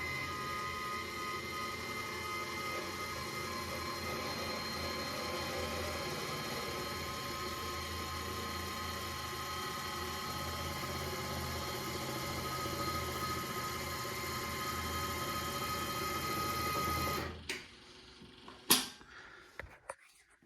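A linear actuator lowers the snowblower chute on a Kubota BX2680 tractor, giving a steady mechanical hum over engine drone for about seventeen seconds before it stops, followed by a few faint clicks.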